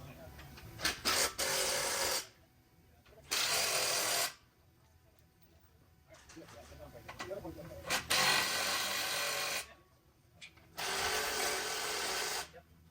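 A wrench or ratchet tightens 13 mm bolts on a Ridgeline bumper, producing several bursts of rapid ratcheting clicks separated by quieter pauses, fairly close and moderately loud.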